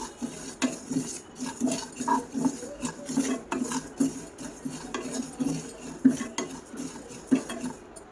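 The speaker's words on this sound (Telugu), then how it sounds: "మీడియం ఫ్లేమ్లో పెట్టుకొని వేయించేసుకోవాలి మాడిపోకూడదు" Cumin seeds frying on medium flame while being stirred in a pan, with soft rhythmic scraping and clinking of a utensil against metal, faint and close, no talking.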